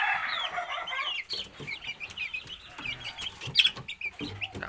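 Chickens clucking nearby in a backyard coop, a busy overlapping chatter of short cackles and calls with an occasional louder squawk.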